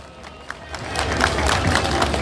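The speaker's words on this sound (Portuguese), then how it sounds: "Vamos aplaudir Mãe Iemanjá!" A festival crowd claps and cheers for the illuminated Iemanjá procession at a Yemanjá celebration in Cassino, the mixed clapping and voices swelling from quieter scattered sounds into a loud, continuous roar.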